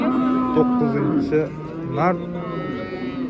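Cattle low with drawn-out moos, loud and close at a livestock market in Bakhmal, Jizzakh, while voices talk in the background.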